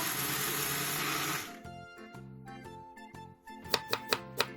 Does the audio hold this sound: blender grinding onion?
yes